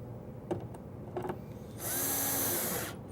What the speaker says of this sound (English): Screw that in place, making sure that that slide in the front is just back from the front